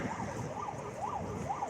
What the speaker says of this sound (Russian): скорая едет.